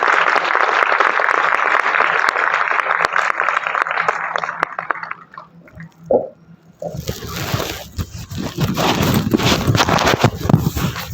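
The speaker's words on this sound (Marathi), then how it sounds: "सर्वांनी जोरदार टाळ्या वाजवायचे आहेत" Dense audience applause fills a city town hall during a felicitation ceremony for a painter, steady and loud for about five seconds before fading into quiet and then louder music.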